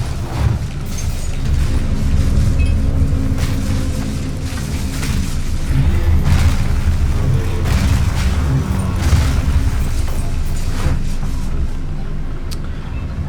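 Loud, rumbling booms roll on continuously with crackling bursts layered over a heavy low roar, lava explosions in Path of Exile 2.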